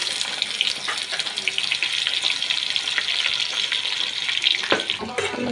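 Chopped onions and chillies fry in hot oil in a pan, giving a steady, close, crackling sizzle with brief clinks and stirring sounds over it.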